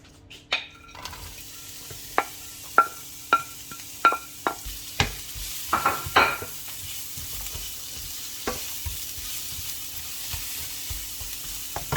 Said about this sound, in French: Je vais faire dorer oignon pour donner un bon goût dans le wrap.